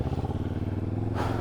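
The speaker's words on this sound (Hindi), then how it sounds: "बाइक जो स्लिप कर रही है इस पर" Xcape 650x motorcycle engine thrums steadily as the bike slips on a rough track near a small water crossing, a close, pulsing rumble that ends in a brief burst of noise.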